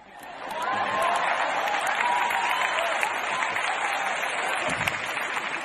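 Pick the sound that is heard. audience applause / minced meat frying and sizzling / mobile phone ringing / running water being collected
audience applause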